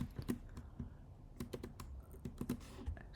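Code is typed on a computer keyboard in quick, uneven bursts of crisp key clicks, close and fairly quiet, with brief pauses between bursts and no talking.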